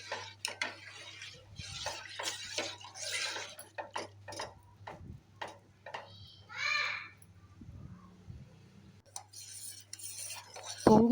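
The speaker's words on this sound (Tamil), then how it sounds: "நல்லா கிளறி விட்டுட்டே இருங்க" A spoon stirs health-mix porridge in a metal pot, scraping and clinking against the sides in irregular bursts close by, with a steady low hum throughout and a brief voice in the middle.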